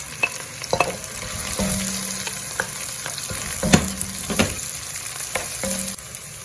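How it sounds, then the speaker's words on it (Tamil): Onions fry in a pan for a rooster curry, giving a constant close sizzle overlaid by scattered metallic scrapes and taps of a stirring utensil, with a brief tonal clink midway and the frying cutting off near the end. "வெங்காயத்தை போடுவோம் வெங்காயம் கொஞ்சம் வேகட்டும்"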